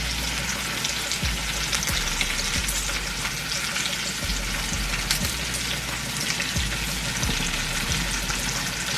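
Food sizzles and spatters steadily in hot butter in a pan, a dense close crackle with occasional louder pops, no voices.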